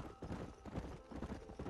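Galloping hooves of a herd of horses in the video game Red Dead Redemption, a rapid muffled clip-clop rumble that is quiet and continuous, with a faint whinny suggested.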